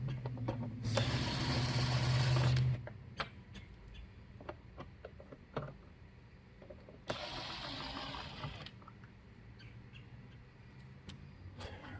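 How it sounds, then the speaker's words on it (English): An impact wrench fires in two bursts on the intake of a Dodge Charger, loud and close, with quiet clicks and tool handling between them. "this is overkill with my impact wrench"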